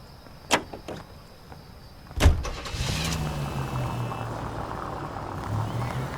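A car in L.A. Noire starts up with a few sharp clicks and a door thud, then settles into a steady low engine drone that carries on to the end, close and moderately loud.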